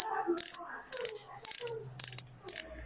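A Ghost Strike Gladiator S series fishing reel gives off six short bursts of bright, buzzing clicks in a quick, fairly even rhythm, close up and loud, with only faint sounds between the bursts.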